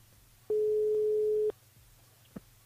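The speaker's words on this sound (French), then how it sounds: "Ça sonne, ça sonne, ça sonne." On an outgoing phone call, a single long ringback tone hums steadily for about a second, then cuts to quiet line hiss with a faint click afterward.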